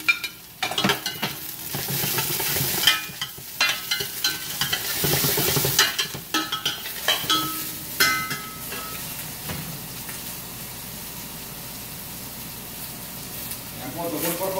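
Onion and tomato sauté in oil in a pan for lechon paksiw, with a sizzle broken by scraping stirs and clatters of the spoon, close and fairly loud.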